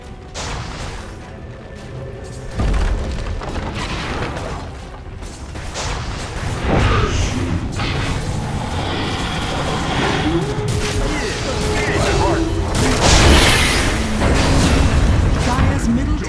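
Tower assault in a Dota 2 match: booming hits, crashes and clashing combat effects layered densely, with an announcer voice speaking over the battle.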